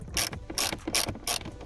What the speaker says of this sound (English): you need to remove the other 8mm bolt that's here in the back